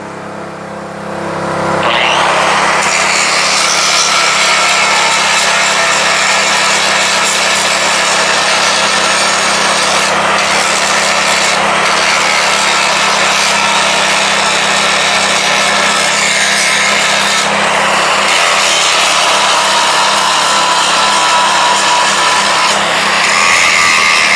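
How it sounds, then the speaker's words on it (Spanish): Angle grinder with a disc cleaning the oxy-cut area on a broken 16-spline Eaton axle shaft, a loud continuous high grinding whine that runs for over twenty seconds after a brief quieter start. "Con el disco de pulidora, vamos a limpiar esa área de corte para que quede lista para el inicio de la soldadura."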